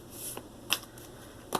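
Tarot cards are shuffled close by in a few quick, crisp riffling bursts separated by short pauses.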